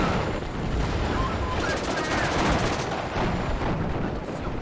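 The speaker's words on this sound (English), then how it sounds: "the 20mm going to be doing its best to try and shoot that down" Rapid automatic 20mm anti-air cannon fire aimed at an Mi-8 helicopter in the wartime strategy game WARNO, a dense continuous barrage of overlapping bursts with a steady roar throughout.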